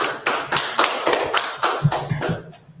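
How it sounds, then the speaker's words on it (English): Rhythmic group clapping at a brotherhood and unity class in Trenton, about nine sharp, evenly spaced claps at close range with no voices, tailing off at the end. "Nice clap it up for the brothers."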